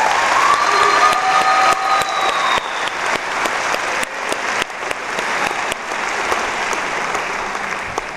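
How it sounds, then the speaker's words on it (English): A large crowd at a high school graduation ceremony in Dunkirk, New York, claps loudly and continuously with scattered sharp claps and a few whoops, sustained throughout. "Please join me in one last round of applause for your class of 2018."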